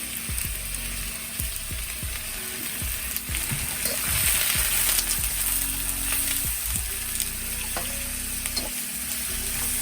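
Onion and zucchini stir-frying in a pan for shrimp stir-fry noodles, a steady close sizzle broken by repeated scraping and stirring strokes, alone with no talk.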